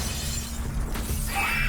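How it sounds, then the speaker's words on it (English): Computer-generated exploding glass for an action stunt sequence: a brief shattering burst with bright crackling fragments over a low steady rumble, close and fairly loud. "CG exploding glass"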